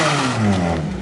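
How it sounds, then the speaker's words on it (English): A dirt bike engine revs in neutral, a steady buzzing mid-pitched drone with its pitch sliding slightly downward, close and loud. "now neutral. Rev it."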